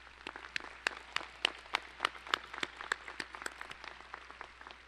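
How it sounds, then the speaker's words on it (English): Audience applause at a university commencement ceremony, heard as fairly quiet, scattered individual claps in an irregular patter, somewhat distant and reverberant, lasting about five seconds. "Let's give her another round of applause."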